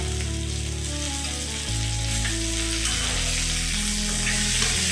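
Onions sizzle and fry in a pan for a Chettinad mushroom gravy, a loud, steady hiss with low bubbling underneath throughout.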